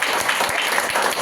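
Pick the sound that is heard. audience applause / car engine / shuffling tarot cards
audience applause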